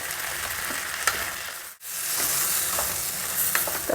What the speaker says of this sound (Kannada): ಎಲ್ಲ ತರಕಾರಿಗಳನ್ನು ಎಣ್ಣೆಯಲ್ಲಿ ಫ್ರೈ ಮಾಡಿಬಿಟ್ಟು